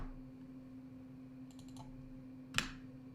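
A computer mouse right-click during charting software setup: a few faint soft clicks, then one sharper click, close and quiet over a steady electrical hum.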